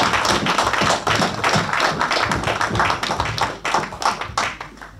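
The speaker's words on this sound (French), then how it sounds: "je vous demande un maximum d'applaudissements pour nos ancêtres" An audience at a Pan-African unity conference in France applauds in honour of their ancestors: a dense, sustained round of hand clapping with uneven surges, close and loud throughout.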